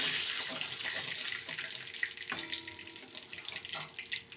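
A bay leaf, whole cumin and asafoetida sizzle in hot oil as a tempering, a close, steady hissing fry with small crackles and pops, no talk over it.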